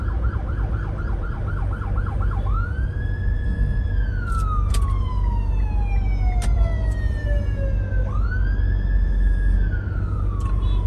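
An ambulance siren wails loudly nearby in Cebu City after an earthquake, a rapid yelp giving way to long rising and falling sweeps over steady traffic rumble.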